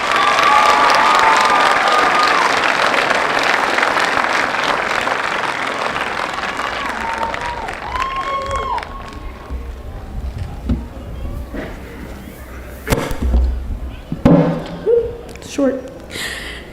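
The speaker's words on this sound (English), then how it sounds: "Please give her a round of applause." A graduation crowd in a school ceremony bursts into loud applause and cheering for the class valedictorian. The noise fades over several seconds, and a voice then speaks over scattered claps and shuffling.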